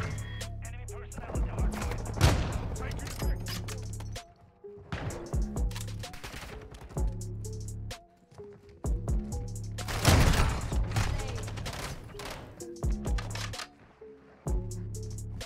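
Victus XMR marksman rifle fire in the video game Modern Warfare 2: sharp, spaced gunshots crack alongside bursts of other gunfire in a match, with someone talking over the action.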